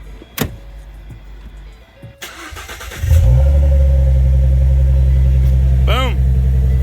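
A 2015–2017 Ford Mustang S550, freshly fitted with a DW400 fuel pump, cranks and fires up after a few quiet clicks and a brief whir, then settles into a loud, steady, rumbling idle close by.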